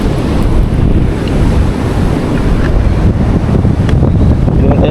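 Ocean waves washing onto a beach during a seaside breakfast, a loud, continuous roar of surf with heavy wind buffeting the microphone throughout.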